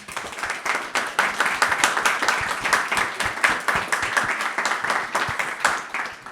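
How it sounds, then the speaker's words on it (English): Audience applause at a talk on men's mental health, a steady round of clapping from a seated crowd that holds at an even level throughout, with individual claps standing out near the front. "round of applause"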